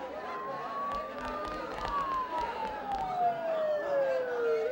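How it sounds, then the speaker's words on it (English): Police sirens wail continuously in the Persona 4 video game, one tone sweeping slowly downward while another holds steady, sounding fairly close under a faint crowd-like background murmur. "Don't those sirens sound really close?"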